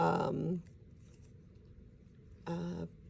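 Short crisp snips of scissors cutting excess cardstock, with a burst at the start and another near the end and quiet between. Each burst is close and bright.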